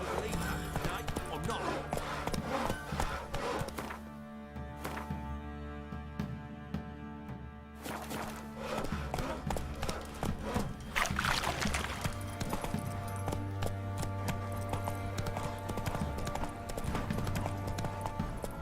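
Horse hooves clip-clopping in the game The Witcher 3, a steady rhythmic trot close by under music and ambient noise, with a voice speaking over parts of it.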